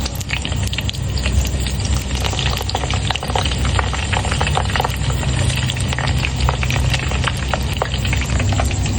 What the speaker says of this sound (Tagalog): Perito yung tilapia.